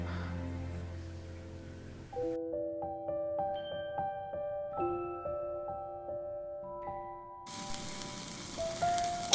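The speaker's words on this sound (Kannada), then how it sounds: "ಟೊಮೆಟೊ ಹಸಿಮೆಣಸು ಹಾಕಿ ಮೀಡಿಯಮ್ ಫ್ಲೇಮ್ನಲ್ಲೇ ಚೆನ್ನಾಗಿ ಫ್ರೈ ಮಾಡ್ಕೋಬೇಕು" Onion, tomato and green chilli fry in coconut oil over a medium flame for Mangalore-style clam sukka, giving a soft, steady sizzle that a gentle tinkling melody interrupts midway before the hiss returns.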